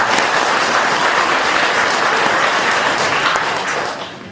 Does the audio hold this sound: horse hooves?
no